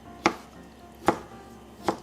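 Three sharp, evenly spaced chops of a cheap 100-yen-shop kitchen knife through food on a board, close and crisp, with quiet pauses between strikes.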